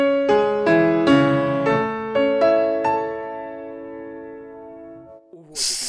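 Solo piano plays a phrase from the theme of Schumann's Symphonic Etudes: a slow series of struck chords ringing out and fading, closing on a final sustained chord before a brief noise.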